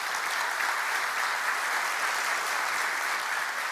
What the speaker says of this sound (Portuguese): Você pode aplaudir a Deus por isso?